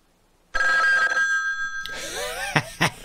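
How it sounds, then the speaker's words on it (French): A telephone bell rings loudly and steadily for over a second in a tense film scene, then stops as other sounds with a sliding, whistle-like quality and a couple of sharp knocks take over. "Pouvez-vous baisser le son du téléphone?"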